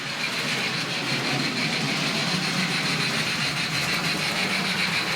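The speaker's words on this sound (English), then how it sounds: "Another train on the move." A second-hand model train locomotive running along its track, a steady, dense mechanical whir and rumble with no clear breaks, heard close up at moderate level.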